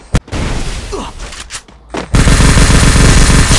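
Automatic fire from an MP40 Chromasonic submachine gun in a video game, a single early shot followed by a few scattered bursts, then a loud continuous rapid-fire stream over the final second and a half.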